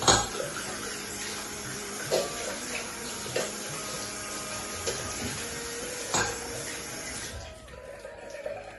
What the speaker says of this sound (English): then you should wash your hands.